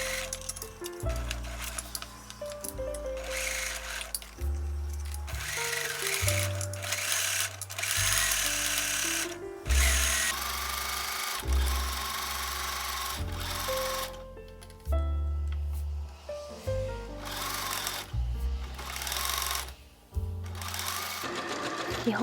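A sewing machine stitches a front body panel to a front side panel of a patchwork garment, running loud and steady in bursts with short pauses between runs of stitching.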